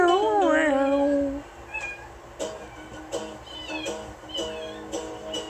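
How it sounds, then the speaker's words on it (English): A domestic kitten meows clearly and up close with a couple of drawn-out, wavering cries, followed by quieter household noises and faint, scattered sounds. "And that's our kitty."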